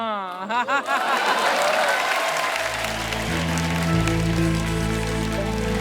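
Studio audience on The Kapil Sharma Show applauds a singer with loud, sustained clapping that swells after a brief opening of speech and a sung or hummed phrase, then continues dense and even.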